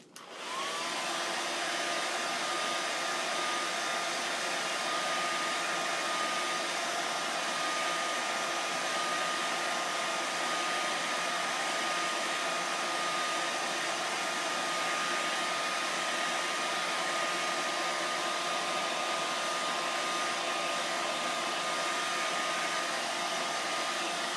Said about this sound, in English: I used my blow dryer, so it's going to be a little noisy.